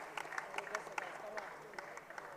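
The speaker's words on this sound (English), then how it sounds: "Listen to that crowd." Crowd at a pickleball championship match cheering and applauding, with scattered sharp claps and whoops over a steady roar of voices at moderate distance.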